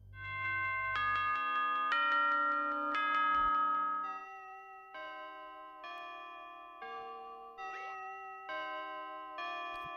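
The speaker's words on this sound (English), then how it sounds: "Why would the end of my shift in an office be signaled by a grandfather clock chime?" A grandfather clock chime ending a night in Five Nights at Freddy's: a sequence of clear, ringing bell-like notes struck one after another at an even, stately pace, each tone sustaining and overlapping, with no voices.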